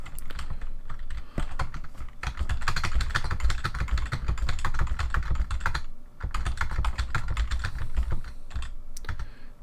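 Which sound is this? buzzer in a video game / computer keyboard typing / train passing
computer keyboard typing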